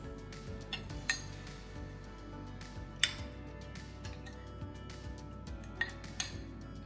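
Cutlery clinking against dishes while apple crisp is eaten, quiet scattered taps and light clinks at an irregular pace, close by, with no talking.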